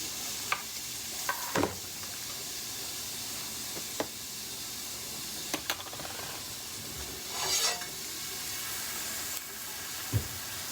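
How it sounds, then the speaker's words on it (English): Steady sizzling hiss from ribeye chops in an overheated pan moved off the flame, with a few sharp clinks and scrapes scattered throughout, no voices. "my pan got too hot, so I scooted it off the flame, but it's probably going to sizzle."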